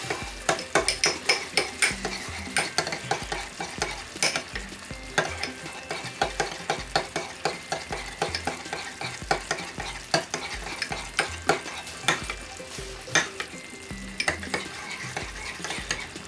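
A spoon stirs cooled thyme-infused cream together with egg yolk, making steady repeated scraping and clinking strokes at close range, with faint background music underneath.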